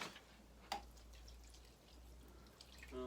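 Water drips from a freshly watered garden plant: a few faint, sparse drops, one slightly clearer, against a very quiet background.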